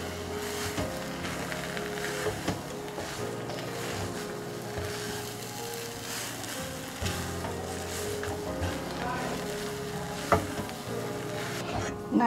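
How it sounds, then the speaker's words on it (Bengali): Flour dough being stirred in a hot pan, with a soft continuous sizzle and scraping of the spoon against the pan, plus occasional knocks, quiet and close with no voices. "ভালোভাবে নেড়েচেড়ে একটা ডো তৈরি করে নেব।"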